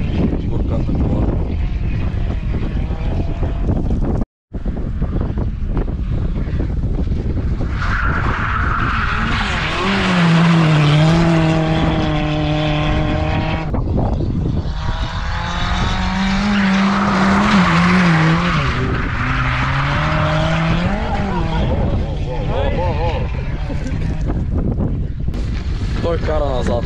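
A car skids on a racing track, its tires squealing over a loud, revving engine for most of the stretch, with a brief cut near the start and excited voices shouting over it.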